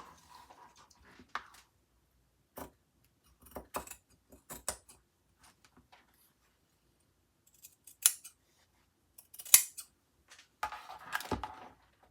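Scissors snip through bandana fabric for a tote bag in scattered short cuts, crisp and close, separated by near silence, with a quicker run of snips toward the end.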